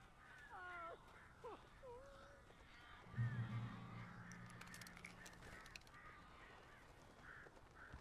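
Crows caw in the video game Alan Wake, several harsh calls early on, then a low thump and rustling flutter, all under a steady dark ambient bed.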